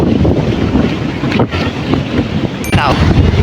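Fast sea waves break and wash near the shore in strong wind, a loud, steady churning rush with wind buffeting the microphone throughout.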